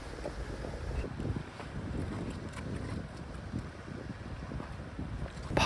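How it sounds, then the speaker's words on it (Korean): Strong wind gusts by the sea in Jeju, roaring and buffeting the microphone continuously with a low rumbling wash and no pauses. "바람이 더 세진 것 같긴 한데 비는 그친 것 같아요."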